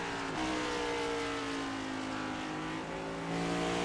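Steady onboard roar of a Next Gen stock car lapping Watkins Glen in a racing sim, the engine holding a high sustained drone with a brief shift dip early on, loud and close throughout.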